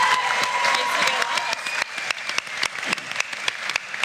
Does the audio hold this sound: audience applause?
yes